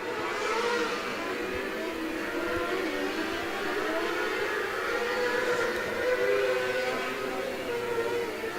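Winged A Class sprint cars race around the Coles County dirt oval, engines droning together in a steady, dense roar that holds loud and even, with slight swells as the single-file pack drives off turn 4.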